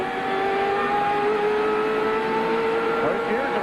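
NASCAR race car engine droning as it begins to pick up speed at the 1998 Bud Shootout, a loud sustained roar with rising engine tones and other cars blending in, commentators talking over it.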